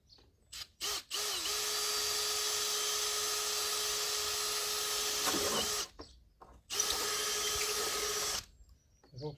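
A drill bores through a fibre motorcycle body part in two long, steady whining runs, each cut off abruptly, with brief handling noises in between; nobody speaks.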